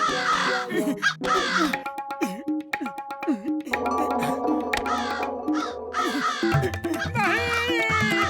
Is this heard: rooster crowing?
no